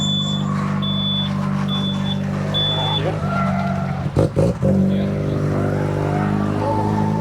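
A drift car at a Miata drifting event revs with a buzzy, rotary-like engine note, rising and falling under a repeating electronic beeper, with a few sharp bursts; people talk nearby over it.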